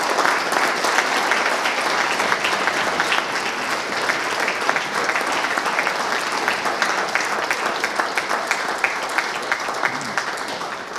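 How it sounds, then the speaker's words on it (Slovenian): Sustained audience applause for the conductor at a brass band concert in the Posavje Museum in Brežice, dense and steady clapping from a sizable crowd, fairly loud and continuous with no talk over it. "da mu vi namenite aplavz"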